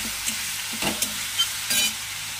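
Faint frying of mutton in a pan with a few soft stirring scrapes and clinks, no voices.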